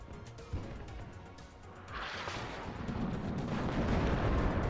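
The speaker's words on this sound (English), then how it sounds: "Artillery coming in ahead of those tanks." Artillery rounds land in a rumbling barrage in the real-time strategy game WARNO, rising from scattered thuds to a sustained roar of shellfire ahead of advancing tanks.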